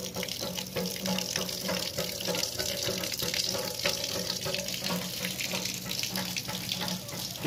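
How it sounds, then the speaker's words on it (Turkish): Water from a hand pump at a village drinking-water point runs in a steady, splashing stream, continuous and fairly near, with no talk over it. "El pompası."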